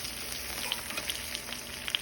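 Chicken pieces frying in a skillet, a continuous close sizzle with scattered small pops and crackles, moderately loud and with no voices.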